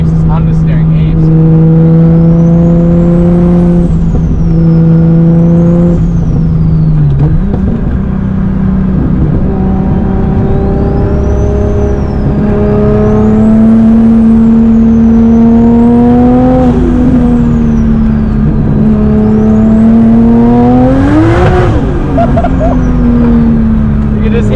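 A 500 HP RB26-powered Nissan S15 on a mountain run, heard from inside as the engine drones loudly and its pitch rises and falls through gear changes, with a sharp surge and crackle near the end.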